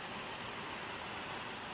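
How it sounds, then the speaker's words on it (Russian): Steady early-morning rain in Anapa falls softly, a continuous faint hiss of drops on surfaces with no other sounds. "А у нас дождик 5 утра"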